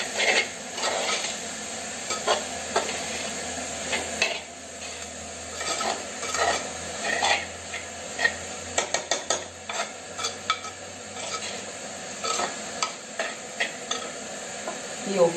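Bitter gourd thoran stirred in coconut oil in a pan, with a steady low sizzle under frequent scraping and clattering strokes of a spoon against the metal, close up and continuous, with no talking.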